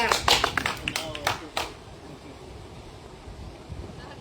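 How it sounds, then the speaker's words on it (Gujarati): A crowd claps at an outdoor political rally on a protest march: a burst of scattered hand claps fills the first second and a half, then fades into windy open-air noise with voices in the background. "તાળીઓ પાડો બધા તાળીઓ પાડો"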